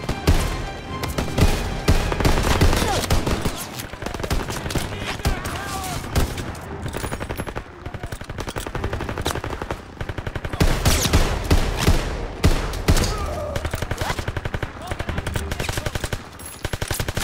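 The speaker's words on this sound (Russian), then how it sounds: "Да кто стреляет-то, блин" Sustained gunfire in the WWII shooter game Call of Duty: WWII, with rapid machine-gun bursts and overlapping shots running loud and continuous throughout, barely letting up.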